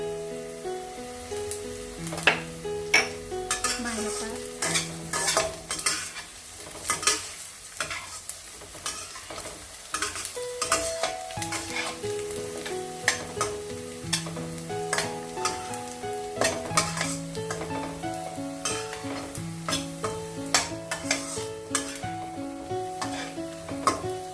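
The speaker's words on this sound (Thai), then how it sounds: "พอหอมเริ่มสุกแล้วเราก็จะใส่กระเทียมลงไปนะคะ เราต้องการผัดให้ให้เครื่องเข้าหอมเฉยๆค่ะ" Shallots and garlic are stir-fried in a pan for a Thai baked eggplant and pork dish, with a steady sizzle under repeated sharp scrapes and clinks of a spatula against the pan.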